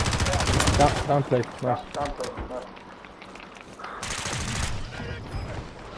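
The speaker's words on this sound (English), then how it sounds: "we're getting shot from behind" Rapid gunfire from a Call of Duty match sounds in dense bursts at the start and again near the end, mixed with footsteps and other game noise while players talk over it.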